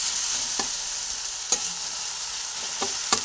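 Spices with turmeric being stirred and fried in a pan, a continuous soft sizzle punctuated by a few sharp spatula scrapes at irregular intervals.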